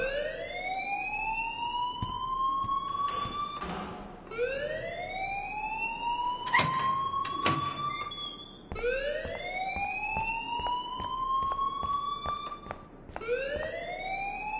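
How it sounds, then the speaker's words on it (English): A school alarm in the video game Life is Strange wails in loud, rising siren sweeps that repeat about every four seconds, with some sharp clatters in between. "please turn off that alarm since that's your job"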